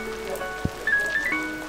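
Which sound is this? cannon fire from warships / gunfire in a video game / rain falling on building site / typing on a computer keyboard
rain falling on building site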